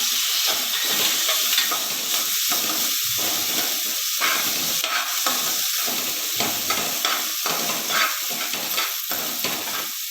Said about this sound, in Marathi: व्यवस्थित आपल्याला हे परतवून घ्यायचं आहे